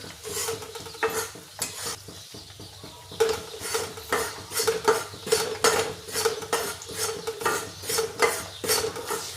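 Wheat flour roasting in a pan over a low gas flame, stirred with a utensil that scrapes and clinks against the metal in steady, repeated strokes, close and fairly loud, with a soft sizzle underneath.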